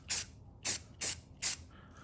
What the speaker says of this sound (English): A little chillier than usual for my spray painting as well.